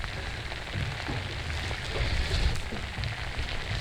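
Rain falls steadily during fishing in a harbour on a very windy day, a dense, even patter with low rumbling beneath it, continuous throughout and with no talk.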